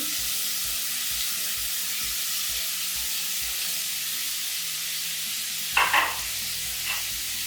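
Ground pork and onion frying in a pan for spaghetti bolognese, a steady close sizzle with occasional stirring scrapes and a brief clatter near the end.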